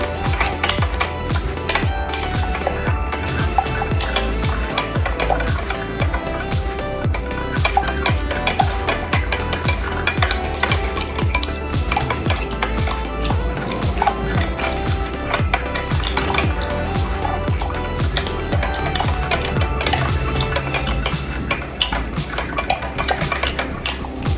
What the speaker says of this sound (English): We're gonna mix this until it's good.